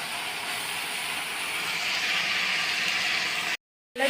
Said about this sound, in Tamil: இப்போ நம்ம ரைஸ் போட்டுக்கலாம்.